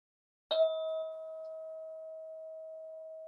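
A single bell is struck once to open a Kemetic yoga session, a clear ringing tone that sustains and slowly fades over several seconds in a quiet room.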